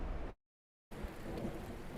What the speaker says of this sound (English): Rain, thunder.